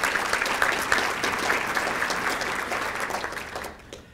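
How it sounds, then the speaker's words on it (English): A luncheon audience applauds with dense, steady clapping that stays loud and even before tapering off at the end. "I'd love to give her another round of applause"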